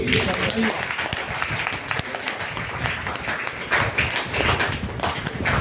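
A crowd at a health care training session claps in a dense, steady wash of applause, fairly loud and close, with voices mixed in underneath.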